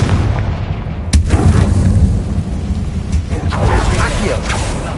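Confringo explosion spell cast in a Harry Potter video game, a sharp blast followed by rumbling booms and crackling debris, loud and close, with speech mixed in.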